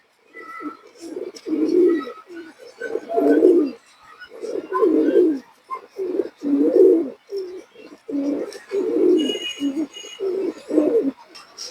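Pigeons of a racing pair, on offer from a pigeon seller, coo in repeated low, throaty phrases close by, a steady series of soft rounded calls with brief pauses and no talk over them.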